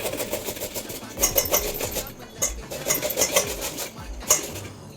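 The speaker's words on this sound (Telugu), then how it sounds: "చూడండి, ఇలా పైన చెక్కు రాకుండా నీట్గా తురిమేసుకోవాలి." Ash gourd pieces rubbed against a metal grater for halwa, an irregular scraping rasp with clinking strokes close by, occasionally under a voice.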